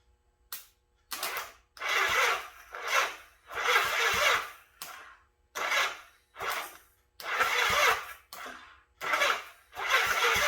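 A Honda Goldwing motorcycle engine cranks over on its starter after a clutch replacement, with the battery nearly dead: a series of short whirring bursts, each a second or so long, separated by brief pauses, fairly close.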